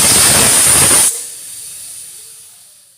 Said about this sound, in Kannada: ಈ ರೀತಿ ಒಂದು ವಿಜಲ್ ನಾವು ಕೂಗಿಸ್ಕೊಂಡಾದ ನಂತರ ಕುಕ್ಕರ್ ಕಂಪ್ಲೀಟಾಗಿ ತಣ್ಣಗಾಗಿ ಏರೆಲ್ಲ ಹೋಗಬೇಕು.